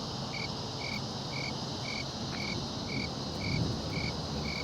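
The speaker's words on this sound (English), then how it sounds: "Just so you know, I got a cricket sound" Crickets chirp outdoors at a motorcycle practice ground in Florida: about nine short, evenly spaced chirps in a steady rhythm, fairly faint over a low background hiss.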